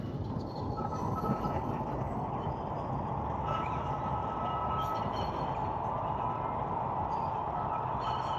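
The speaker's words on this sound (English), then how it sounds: "train going past the Bundaberg ginger beer factory." A sugar cane train rolls past the Bundaberg ginger beer factory in Queensland, a steady rumble of wagons and wheels with a faint high squeal, continuous and fairly close.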